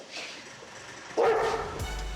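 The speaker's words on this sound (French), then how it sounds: "le malinois fait son petit effet" A Belgian Malinois police dog gives a short bark near the end, loud and close, breaking through quieter background noise during a Paris police operation against squatters.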